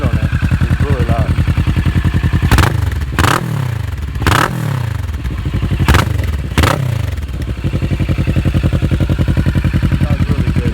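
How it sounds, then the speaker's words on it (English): A Kawasaki Ninja 650R twin-cylinder motorcycle engine throbs steadily through its exhaust, with several sharp revs in the middle before settling back to a loud, close idle. "In my opinion, it's one of the nicest sounds you can find in a twin cylinder."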